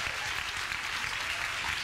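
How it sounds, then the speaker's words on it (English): A group claps together briefly and steadily, an even patter of many hands at moderate volume without voices. "let's have a clapping"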